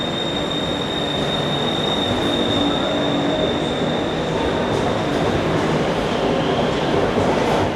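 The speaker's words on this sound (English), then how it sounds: "Here comes the next train." Loud, continuous rumble of an MRT Blue Line metro train arriving at the platform in Bangkok, with a faint squeal of wheels, close by and steady throughout.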